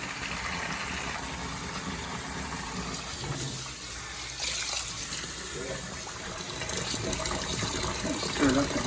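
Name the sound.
pouring 2 liters of hot water for homebrew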